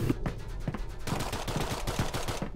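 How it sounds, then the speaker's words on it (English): Rapid bursts of gunfire crackle through a busy, noisy scene in the video game Garry's Mod, The Hidden mode, with repeated sharp shots clustering together and continuing throughout. "I'm hearing gunshots."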